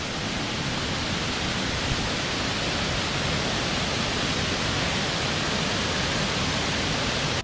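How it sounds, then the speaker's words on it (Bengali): Water pouring down a hillside near a homestay in Sittong, Darjeeling, a loud, steady broadband rush with no breaks, heard alone. "কোথার থেকে জল পড়ছে দেখুন শুধু"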